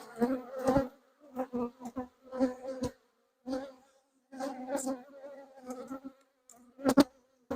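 Honeybees buzz around a hive colony close by, with uneven bursts of droning wingbeats coming and going as individual bees fly past, separated by brief quiet gaps.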